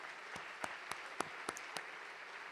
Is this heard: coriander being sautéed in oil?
no